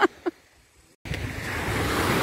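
Mediterranean surf washes steadily onto the shore in a continuous, moderately loud rush. Two brief voice sounds come just before it.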